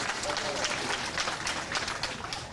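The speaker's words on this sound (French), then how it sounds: "Applaudissez encore pour elle, s'il vous plaît." A crowd at a public event applauds, and the clapping holds as a dense, steady roar for the whole stretch.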